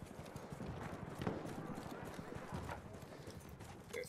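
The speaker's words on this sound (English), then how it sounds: "Oh gosh, and a horse." Horse hooves clip-clop in rapid rhythm in the Battlefield 1 video game, fairly faint and steady beneath a mix of game noise and a talking voice.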